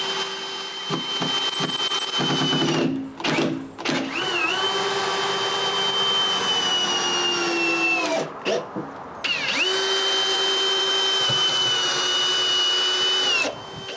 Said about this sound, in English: I decide to screw everything in place.